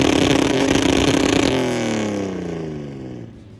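An off-road AU Falcon with an insanely loud side-exit exhaust revs hard with a loud, raspy exhaust roar, then the pitch falls away as the revs drop and fade.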